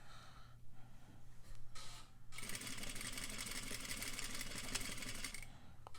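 Sewing machine stitching along a curved seam and then backstitching: a soft start, a brief run, then a steady, close mechanical whir lasting several seconds before stopping.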